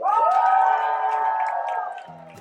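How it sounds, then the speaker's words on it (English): A sustained whooping cheer rises and holds for about two seconds, then fades, as onlookers urge on a man taking on an eating challenge at a restaurant. "Y'all give him a round of applause and cheer him on"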